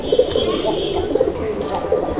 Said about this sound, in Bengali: এই যে দেখেন নরের ডাক